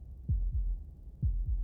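Deep, muffled heartbeats pulse in the video game Slay the Princess, two paired thumps followed by another pair, each beat a low throb over a faint steady hum.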